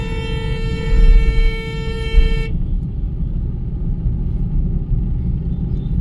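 A car horn blares in a long steady toot for about two seconds over the rumble of the car being driven, then the engine and road noise carry on alone.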